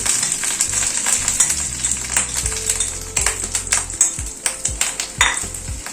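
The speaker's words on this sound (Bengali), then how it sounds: "তেলটা গরম হওয়ার পরে মাছের ডিমটা পুরো দিয়ে দিচ্ছি" Fish roe fries in hot mustard oil in a pan with a steady loud sizzle, while a spoon spreads it out and taps and scrapes repeatedly against the pan.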